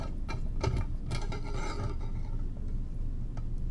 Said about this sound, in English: First thing you should do is place your clamp on the retort stand,